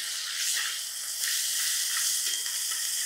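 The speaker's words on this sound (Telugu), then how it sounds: "ఇప్పుడు ఇందులో అల్లం వెల్లుల్లి ముద్ద, పసుపు, వీటిని కూడా నూనెలో వేసి పచ్చివాసన పోయేంత వరకు వేయించండి." Ginger garlic paste and turmeric frying in hot oil for egg biryani, a bright continuous hiss and sizzle heard up close, steady throughout with faint stirring and no voices.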